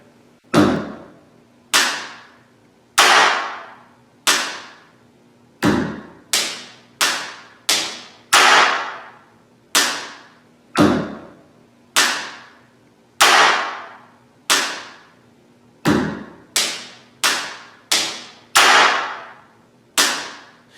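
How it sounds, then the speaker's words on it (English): Slowed-down pen tapping rhythm played on a desk, with crisp individual knocks and thuds in a clear, spaced, repeating pattern. Each hit is close and distinct, with a short ring after it. "if I take this beat and I slow it down for you, it should sound a little something like"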